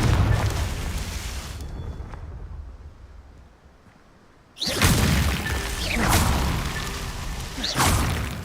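In the Hogwarts Legacy video game, a Confringo blasting spell goes off as a deep booming explosion with a whooshing rush, a loud burst after a brief lull, and rumbling debris trailing behind it.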